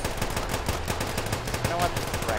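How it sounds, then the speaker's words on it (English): Rapid machine-gun fire from an enemy vehicle in the vehicle-combat game Scraps, a dense, steady rattle of shots lasting the whole two seconds, loud and close. "He's really shooting at us."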